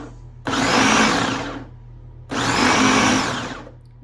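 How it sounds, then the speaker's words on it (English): A food processor pulses keto cracker dough in two bursts of about a second each, a loud whirring motor that starts abruptly and winds down, separated by a brief low hum. "We'll give it another pulse and see how the dough looks."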